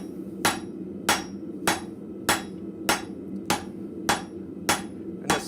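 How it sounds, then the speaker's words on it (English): Blacksmith's hammer striking metal half on, half off the edge of the anvil, nine evenly spaced sharp ringing blows about once every 0.6 seconds, close and clear over a low background hum. "doing just half on, half off blows right at the edge of the anvil"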